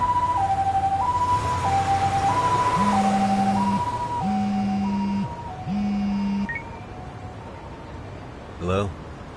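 An ambulance siren in the video game Lost Judgment wails in a steady two-tone alternating pattern, loud and close, while a lower horn tone pulses beneath it before the sound cuts off and a voice is heard.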